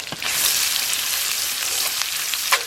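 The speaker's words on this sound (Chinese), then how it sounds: "然后油热以后，咱们把葱姜蒜给它下里边，葱姜蒜末，" Chopped scallion, ginger and garlic hit hot rendered pork lard in a wok, giving a steady, close hiss of frying with a few brief crackles, and no voices.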